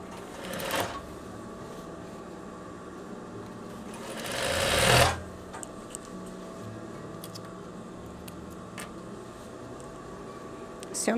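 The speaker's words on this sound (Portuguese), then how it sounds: "vou virar para eu costurar em cima da mesma costura" Short bursts of a sewing machine restitching over the same seam on a veterinary jumpsuit, with brief rustles of fabric between them and a quiet background.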